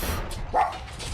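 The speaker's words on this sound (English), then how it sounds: "before he starts barking like that" A dog gives one short, sharp bark near the midpoint, close and fairly loud, against a steady indoor background hum.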